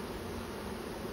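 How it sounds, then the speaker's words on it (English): Honey bees stream back into a hive carrying pollen, their buzzing forming a dense, close, continuous hum through a brief moment. "I just can't believe how many bees are coming in with pollen today"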